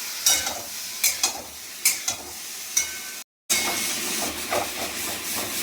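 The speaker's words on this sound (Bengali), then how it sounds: "আর একটু নুন দিয়ে এটাকে একটু ভালো করে নেড়ে নেড়ে ভেজে নেবো।" Gourd and prawn are stirred and fried in a pan, giving a continuous hiss and sizzle punctuated by sharp spatula scrapes and taps, with a brief dropout midway and no voices.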